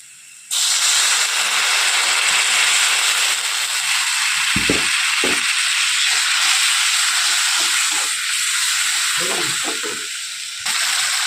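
A splash of water hits spice paste frying in oil in a pan, setting off a loud, steady sizzling hiss that carries on unbroken, with a few faint kitchen knocks underneath.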